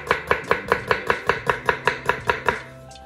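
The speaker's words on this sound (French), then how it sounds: "je vais couper mon ail" Garlic is chopped with a knife on a board: about a dozen quick, even, crisp cuts in a steady rhythm, close and clear, with no talking.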